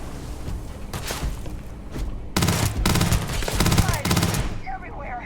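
Combat gunfire in Starfield: dense, loud bursts of rapid automatic fire with overlapping shots, swelling to a heavier barrage midway before tapering into scattered electronic whooshes.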